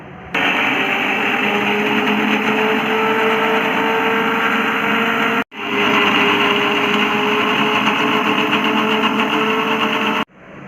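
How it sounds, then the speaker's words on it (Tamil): An electric juicer whirs steadily as it juices watermelon pieces, a loud continuous motor drone that cuts out briefly midway and again near the end. "ஜூஸரில் நம்ம வாட்டர்மெலன் பீசஸை போட்டுருவோம்"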